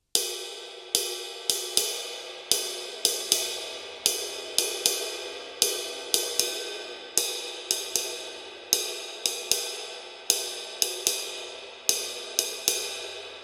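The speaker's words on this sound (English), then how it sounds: "don't hold the stick too tight, okay? You don't want to choke the sound" Choked jazz ride cymbal struck with a stick held too tight: a steady pattern of short, dry pings that die away fast instead of washing, played alone at close range and fairly quietly.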